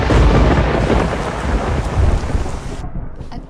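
A loud rumble of thunder rolls over steady heavy rain, close and sustained before fading away near the end.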